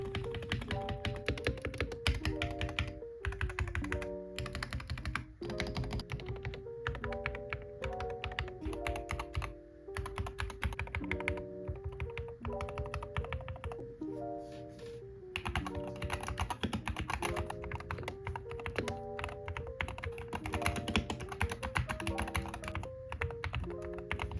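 Continuous clacky typing on a Wooting 60HE keyboard, fast and steady, with musical notes playing along underneath.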